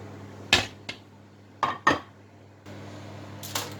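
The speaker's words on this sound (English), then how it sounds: "So after adding the pepper, I give it a stir." A spoon strikes and scrapes a pot of Nsala white soup as it is stirred after uziza and utazi leaves go in, giving a few sharp metallic clinks spaced apart, close and clear over a quiet background.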